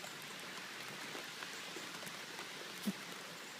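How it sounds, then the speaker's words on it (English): Steady rain falls outdoors as a dense, even hiss of drops, close and moderately loud, with no voices. "We don't like this rain"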